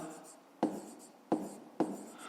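Pen strokes scratching across paper while working out a fifth-grade math exercise, three short distinct marks in a quiet indoor setting, close and soft.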